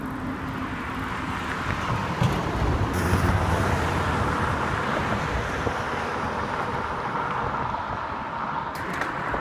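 Continuous road traffic rumbles across the St. John's Bridge as cars stream past close by, a steady dense roar with a few brief louder swells from passing vehicles and no talk.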